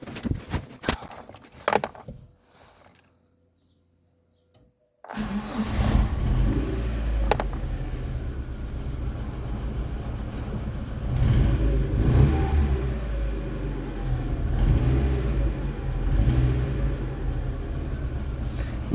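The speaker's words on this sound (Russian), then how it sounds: "Сейчас запущу двигатель, послушаем, как он будет работать с этим модулем зажигания." A VAZ 2112 engine idles with a replacement ignition module fitted, a steady low rumble that runs continuously and fairly loud after a few seconds of near silence, with occasional slight swells in its level.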